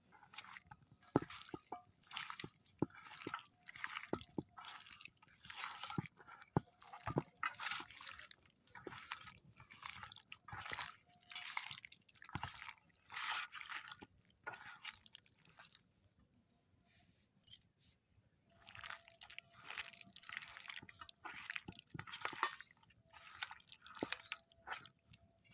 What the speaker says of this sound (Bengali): সেই মশলা দিয়ে মাংসটা এখন ভালোভাবে মেখে নিই